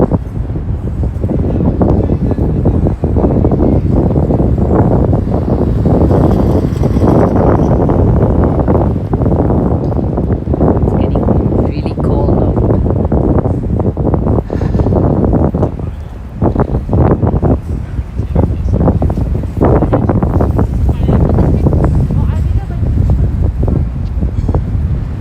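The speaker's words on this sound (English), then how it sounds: "Try to escape from the wind" Strong wind buffets the microphone continuously on a downtown Manhattan waterfront at sunset, a loud, roaring rumble with gusting swells and brief dips, dominating the scene throughout.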